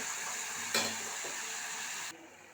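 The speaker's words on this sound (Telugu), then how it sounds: "కారం అయితే వేసిన మంచిగా నూనె ఉడుకుతుంది" Hot oil sizzles steadily in a pan of ridge gourd curry just after chili powder goes in, a dense close hiss with a brief stirring scrape, then cutting off abruptly near the end.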